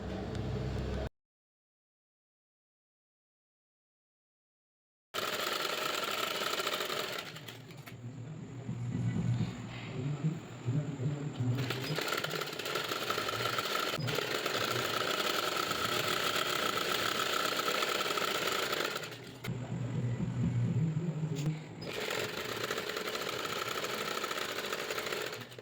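A sewing machine stitches the folded lower edge of a silk saree border, running in long steady whirring bursts with short pauses between passes after a few seconds of silence at the start.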